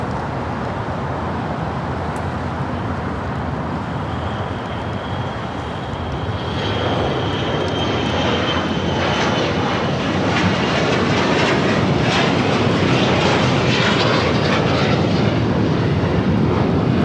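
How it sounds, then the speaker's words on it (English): A Gulfstream G650 business jet departs LAX, its engine noise a steady rushing roar that swells and grows louder midway, with a thin whining tone rising above the rumble. "That is a Gulfstream G650."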